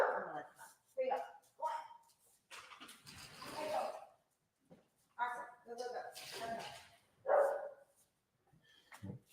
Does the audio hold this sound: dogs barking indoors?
yes